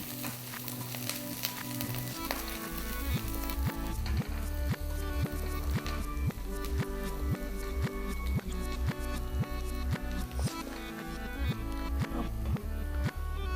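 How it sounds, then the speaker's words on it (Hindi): Chopped garlic and ginger hit hot oil in a pan for a crispy vegetable starter, sizzling loudly and steadily while a spoon stirs with regular scraping knocks; no talking. "तेल गरम हो गया है, तो इसमें 2 चम्मच के करीब हम कटा लहसुन डालेंगे।"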